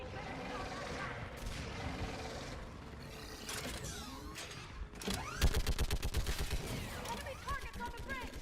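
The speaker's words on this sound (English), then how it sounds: "Get on that gun up there and do some damage!" A mounted gun fires during a Mass Effect 3 battle, a dense burst of rapid rattling shots closing the stretch after a rumbling mix of combat noise and voices.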